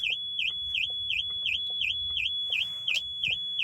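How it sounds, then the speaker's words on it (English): A car alarm going off nearby with a steady, rapidly repeating high warbling siren tone, looping at an even pulse under low background rumble, with no voices. "my car alarm's just gone off"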